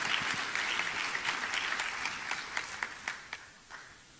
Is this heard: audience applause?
yes